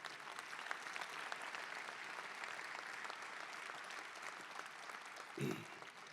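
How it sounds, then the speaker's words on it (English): Sustained applause from a large crowd at a trade show lunch, steady clapping throughout, with a brief low thump near the end. "So let's give them a big round of applause as well."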